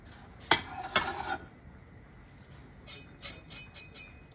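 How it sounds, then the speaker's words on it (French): Salad ingredients, garlic, parsley and onion with ham hock, tossed together in a bowl: a couple of quick scraping clinks up front, then a softer run of light clattering strokes after a pause. "Et je vais mélanger le tout"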